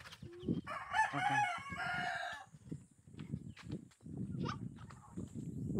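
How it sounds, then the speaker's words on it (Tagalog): A fighting rooster crows loudly near the start, followed by clucking and shuffling of fighting cocks in their cages with faint background voices. "ito ang kanyang ano, kulungan ng mga manok niya, panabong"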